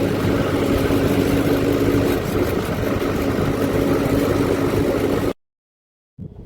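A tractor engine runs steadily as someone rides on it on the way to a fair, a loud continuous rumble that cuts off abruptly near the end before briefly returning.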